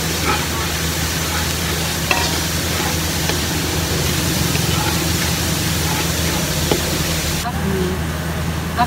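Pork dynamite filling with minced carrot being stir-fried in a pan, a steady sizzle and scraping stir running continuously throughout, with a low background hum.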